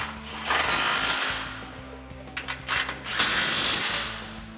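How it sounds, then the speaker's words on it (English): A ratchet turns a 17 mm socket on a Toyota Tacoma suspension during a lift kit install, rapid clicking in close bursts with short pauses between strokes. "And again, 17 millimeter socket."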